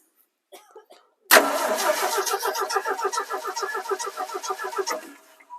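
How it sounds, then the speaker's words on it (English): A 1975 Ford F600 truck engine cranks over with the ignition off, a loud close rhythmic starter churn lasting about four seconds without catching, preceded by a few faint clicks. "Got the ignition off, so crank it over and make sure I've got fuel."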